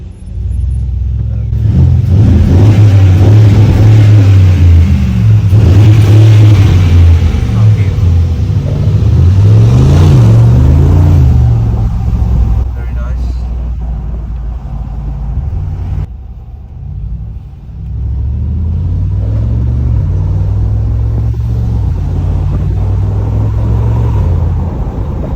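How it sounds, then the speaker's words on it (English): A Mercedes G63 AMG SUV engine revs and surges loudly in a tunnel, the rumble rising and falling in the enclosed echoing space, easing off midway before building again. "we've got a tunnel here, so probably a good place to give it some revs."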